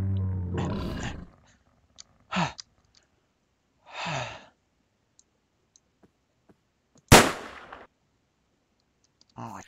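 A giant lizard in a video game roars and growls in several bursts spread across the passage, mixed with game clicks and a sharp crack-like impact, without talking.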